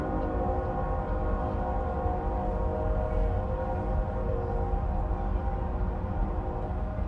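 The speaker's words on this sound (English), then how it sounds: "Oh, I can hear a train." A train rolls through downtown Denver at night, a steady, loud low rumble with layered droning tones that holds evenly throughout, with no talking.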